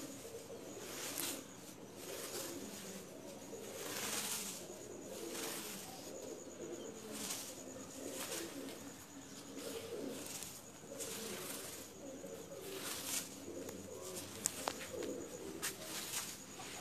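Pigeons coo softly and repeatedly on a rooftop, a steady low murmur of calls with faint chirps and no talking.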